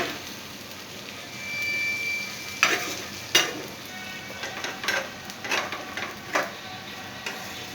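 Round ruti flatbread frying in a little oil in a pan, a soft, steady sizzle with occasional louder bursts of crackle and scraping, close by, without speech.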